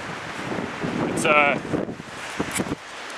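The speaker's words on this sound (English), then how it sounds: "It's turned into a pretty windy day" Steady gusty wind buffeting the microphone throughout, with a short voiced sound and some rustling under the roar.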